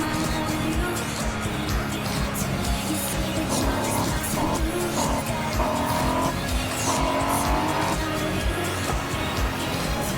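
A car in the racing video game Forza Horizon 5 roars along with sustained engine noise, repeated tyre squeals and skids rising and falling over several seconds, loud and unbroken.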